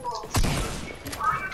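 A sniper rifle shot in the Fortnite video game gives one sharp burst followed by a short decaying boom, with faint game sounds after it.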